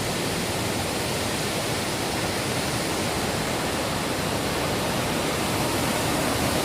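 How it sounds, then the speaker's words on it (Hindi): Heavy water pouring down from above at the Sahastradhara falls in Uttarakhand, a loud, steady, broadband rush that fills the whole stretch without a break. "ऊपर से ही पानी भर रहा है ऊपर से।"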